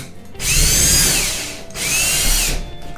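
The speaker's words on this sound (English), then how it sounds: "Drill right in like that" A power drill whirs in two bursts into drywall, the first longer than the second. Its pitch slides down slightly as it bites into the wall. It is close, with no talking.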